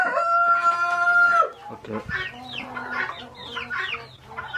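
Chickens cluck and a rooster crows loudly and close by in a farmyard, a long crow at the start followed by busy, repeated clucking, with a brief spoken word near the middle.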